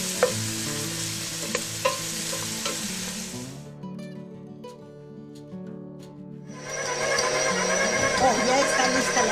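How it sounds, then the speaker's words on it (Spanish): Onion seasoned with oregano fries in a pan for empanada filling, giving a steady sizzling hiss with a few stirring scrapes; the frying drops away midway, leaving quiet tones, then returns strongly. "Esperemos que dore un poco la cebolla."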